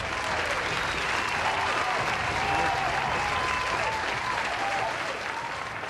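A studio audience at a televised political forum in Delhi breaks into loud, sustained applause to welcome an actor-singer and Lok Sabha MP onto the stage, a dense, even wash of clapping throughout.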